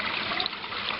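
Sewage water churned by a motor-driven fan during aeration at a recycling plant, a steady rushing, splashing wash that holds even and close throughout the short stretch with no voices.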